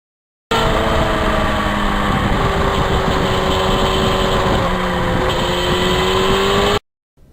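A 1991 Yamaha FZR 1000 motorcycle engine drones loudly and steadily, a sustained buzzing roar with slight pitch shifts as if cruising at speed, then cuts off abruptly near the end.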